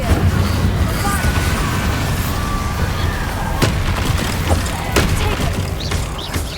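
Spell blasts and booming impacts in the Hogwarts Legacy video game on Xbox Series X, with loud, dense rumbling and several sharp cracks over a continuous roar.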